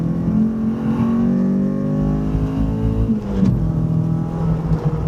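A race car on the Phillip Island circuit drops down into second gear for the slowest corner, its engine note sliding through falling harmonics with a sharp blip mid-way, loud and close from inside the cabin.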